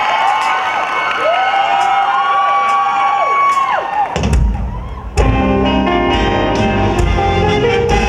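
A live crowd cheers, whoops and applauds a Thai luk thung band at a stage show. The noise is loud and sustained, rising sharply after a stretch of high, gliding tones.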